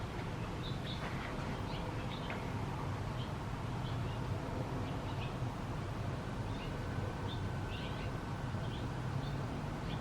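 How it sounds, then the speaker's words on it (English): A small bird chirps faintly and intermittently, brief high tweets scattered over a steady low background rumble. "Listen to the little bird."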